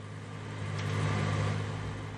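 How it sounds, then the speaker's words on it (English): Road traffic in Farming Simulator 19, a close, steady car engine drone that swells slightly in the middle before settling, with no talk. "Very loud traffic."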